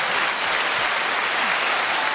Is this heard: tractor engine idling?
no